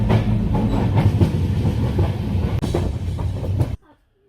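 The Hazrat Nizamuddin Express rumbles steadily along the tracks with rhythmic clatter, heard from an AC 2-tier coach, loud and close, before cutting off abruptly near the end.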